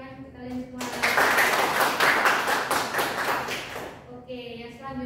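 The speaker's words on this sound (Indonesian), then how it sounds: "Tepuk tangan untuk kalian semua." Classroom clapping for students during a teaching practice session: a group breaks into quick, lively applause that builds after a second, holds for about three seconds, then tapers off, with voices audible before and after.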